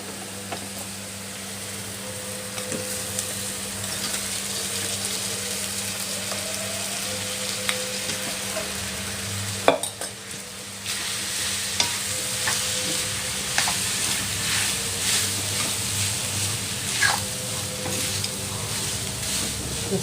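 Spring onion stir-fried with cooked rice in a pan, a continuous close sizzle with intermittent scraping stirs of a spatula and a brief louder clatter midway, no voices.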